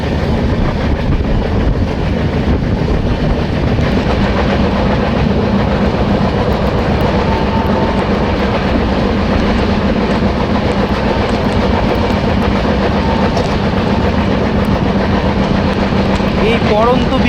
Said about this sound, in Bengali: খুব সুন্দর একটা সন্ধ্যায় ট্রেন ধীরে ধীরে এগিয়ে চলেছে